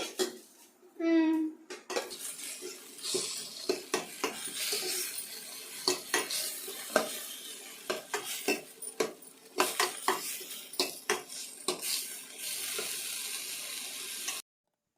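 Batter of ground mudakathan greens for kuzhi paniyaram being mixed in a metal vessel, giving repeated close clinks and scrapes of a spoon with a light sizzle beneath.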